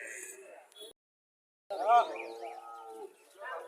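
A cow moos loudly in a long, wavering call after a brief silence at a cattle market, with other farm sounds and chatter around it.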